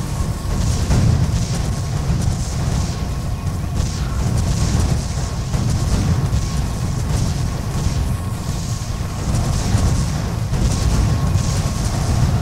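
Cannon towers firing in the strategy game Defense Grid: The Awakening, a continuous barrage of deep booms and blasts layered over one another at a steady rhythm, loud and dense throughout with no talk.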